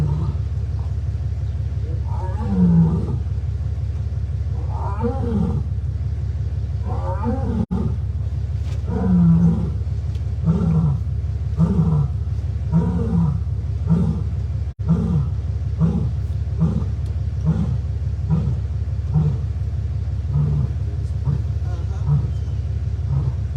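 Rescued big cat at Turpentine Creek Wildlife Refuge in Eureka Springs, Arkansas, giving a long run of close, loud, rhythmic chuffing roars, one every second or so, over a steady low rumble.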